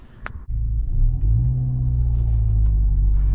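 A 10th-generation Honda Civic Type R drives off after a brief sharp noise, and its engine settles into a loud, steady low rumble heard from inside the cabin with a rising tone as it pulls.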